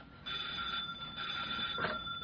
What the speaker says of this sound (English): The phone never stops these days